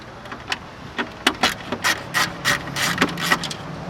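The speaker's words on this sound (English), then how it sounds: "Once these 4 screws are removed, we're going to be able to pull the stereo out of the dash here." Screws being backed out of the dash stereo of a Dodge Ram, heard as a series of close, scratchy ratcheting turns in uneven bursts, with no speech.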